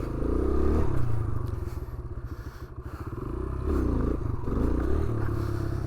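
A motorcycle engine runs steadily during wheelie practice, held on the throttle while the rear brake controls the descent, with the engine note swelling and easing in a continuous loud drone.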